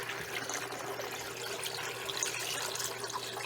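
Water pours steadily from a jug into a barrel holding grit, a continuous trickling, splashing flow close by with faint hum underneath and no talking.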